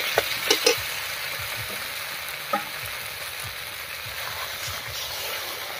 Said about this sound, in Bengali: এবারে মশলা বাটা জল দিয়ে ঢাকা দিয়ে খুব ভালো করে কষিয়ে নেব